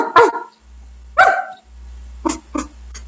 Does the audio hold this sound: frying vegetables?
no